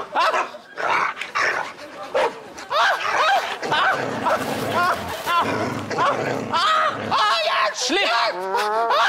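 A dog barks and growls aggressively during attack training. The bursts are loud and near, repeated throughout while people shout and talk over it.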